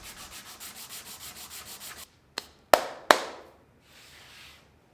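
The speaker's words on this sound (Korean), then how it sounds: "그래도 열심히 샌딩 해줬습니다." A wooden chess piece sanded by hand: steady rhythmic back-and-forth rubbing strokes for two seconds, then three sharp knocks or taps and a brief faint scrape, close and quiet with no talking.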